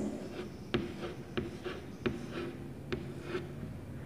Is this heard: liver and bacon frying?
no